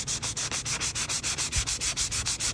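Old finish on a rocking chair, over failed primer, is sanded by hand in quick, even back-and-forth strokes, a close, rhythmic scratchy rasp with no talk.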